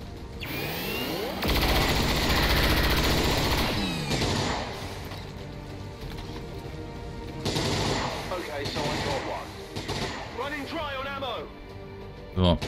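Gunfire in the video game XCOM 2 cracks out as loud, rapid machine-gun bursts and shots, layered with game effects and a voice talking over the action.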